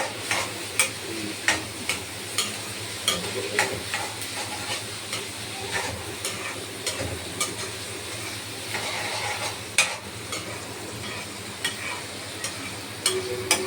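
Egg bhurji with grated coconut stirred in a frying pan, a soft steady sizzle with repeated sharp taps and scrapes of a spoon against the pan at an irregular rhythm, no talk.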